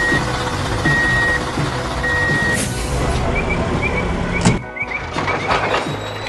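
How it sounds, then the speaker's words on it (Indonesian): A working dump truck hauling soil sounds a steady run of high reversing beeps over its rumbling engine, with a few clunks and a hiss near the end. "Ada truk pengangkut tanah yang sedang bekerja dengan giat, mengangkut tanah hijau ke tempat yang membutuhkan."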